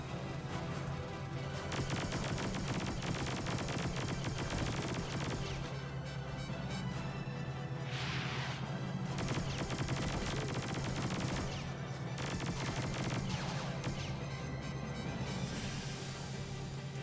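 Bursts of gunfire rattle through the X2: Wolverine's Revenge video game, with rapid overlapping shots and crashes over a constant droning backdrop, dense and loud throughout.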